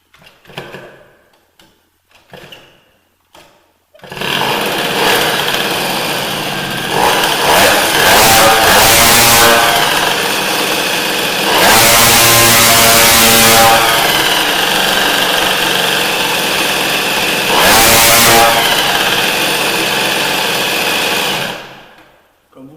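After a few faint clicks, a small 103 SPX-R moped engine starts and revs repeatedly, loud and close, surging and dropping for about fifteen seconds before cutting off.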